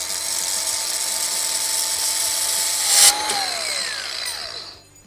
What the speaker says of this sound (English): I'm just going to cut right on that line.